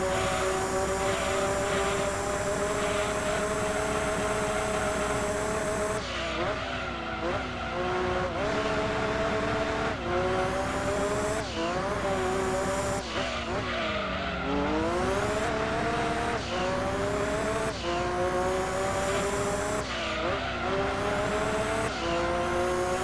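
A race car in Gran Turismo 2 screams through repeated gear changes, its engine pitch climbing and dropping in regular sweeps, with tyre squeal through the corners, loud and continuous with no talk.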